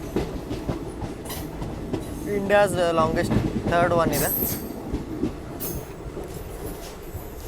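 The Malabar Express rolls on its rails out of Kollam, a loud rumbling run with clattering wheels and a squeal of wheels partway through, while someone talks over it.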